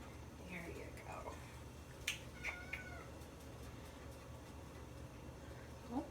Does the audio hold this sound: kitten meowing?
yes